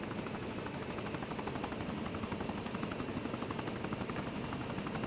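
Military helicopter lifting off in a video game, a loud, steady rotor roar with dense rhythmic blade chop that holds even and close throughout, with no voices.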